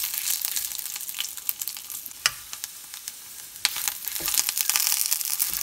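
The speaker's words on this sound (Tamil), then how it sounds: "இதை போட்டு நல்லா ஃப்ரை பண்ணணும். 1 நிமிஷம் ஃப்ரை பண்ணால் போதும்." Ingredients for a spicy tomato and curry leaf chutney sizzle steadily in a frying pan, a dense crackling hiss with a few sharper pops and scrapes, rising slightly toward the end; no talking.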